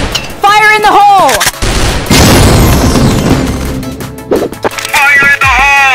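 A grenade blast in the online shooter Crossfire erupts as a loud, dense burst amid repeated game gunfire and booms, with synthetic radio-style voice callouts before and after the explosion.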